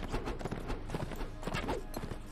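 Horse hooves clip-clopping in the medieval combat game Mount & Blade, a rapid, uneven run of close thuds with faint battle noise behind.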